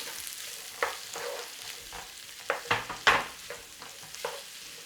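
Onion and garlic frying in butter with a little rice bran oil, a steady close sizzle punctuated by several scraping stirs that cluster toward the middle, with no voices.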